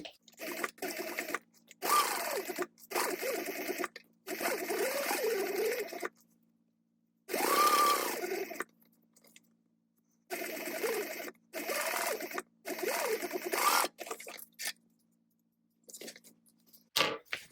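A sewing machine topstitches the lining of a tote bag in a series of short bursts, each a few seconds long with silent pauses between, close and clear with no talking.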